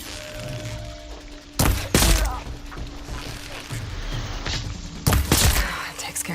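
Bursts of covering gunfire and heavy impacts in Horizon Forbidden West, a few loud cracking blasts standing out over a busy game soundscape, with a character's voice speaking between the shots.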